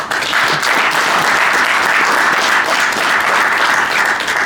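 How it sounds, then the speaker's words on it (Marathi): Loud, sustained applause from a room of sales trainees during a training session, dense and close, swelling slightly and then holding steady throughout with no talking. "जोरात टाळ्या वाजवा."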